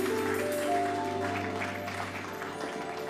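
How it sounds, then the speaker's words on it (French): A church congregation applauding and cheering, steady, dense clapping with a sustained organ-like tone underneath, fading slightly toward the end. "Est-ce qu'on peut acclamer le nom souverain de Jésus?"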